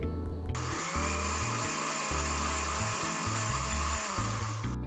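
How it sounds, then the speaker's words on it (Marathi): A mixer grinder runs continuously, grinding peanuts for peanut barfi with a loud, steady whirring motor roar from start to finish, with no pauses. "आता हे शेंगदाणे मिक्सरला बारीक करून घेऊया शेंगदाणे बारीक करत असताना मिक्सर हा चालू बंद करायचा आहे"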